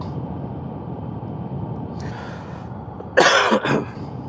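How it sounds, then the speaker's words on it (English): One person coughs a couple of times close by, a short harsh burst after a stretch of quiet room noise. "my apologies for coughing so much"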